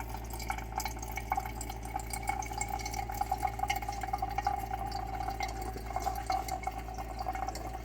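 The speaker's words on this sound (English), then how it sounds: "water is coming out" Water trickles and drips from a Stokk E1/T1 Lite reverse osmosis system tap in a thin steady stream over a constant low mechanical hum.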